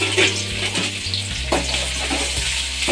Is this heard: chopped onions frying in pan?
yes